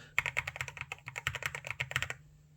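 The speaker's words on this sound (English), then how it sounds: "This is the best sounding keyboard that I have ever witnessed or experienced." Rapid clacky keystrokes on an Akko MU01 mechanical keyboard, close and crisp, tapping steadily for about two seconds before stopping.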